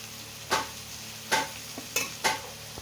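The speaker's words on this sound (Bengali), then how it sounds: "অনুষ্ঠান বাড়ির চিংড়ি দেখবে ভালো করে ভাজতে হয়" Prawns fry in hot oil in a pan with a steady low sizzle, broken by four sharp scraping stirs of a utensil against the pan.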